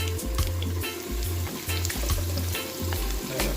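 Carrots sautéing in a pan for Jamaican-style brown stew fish give a steady, close sizzle and crackle with occasional stirring scrapes, running continuously without speech.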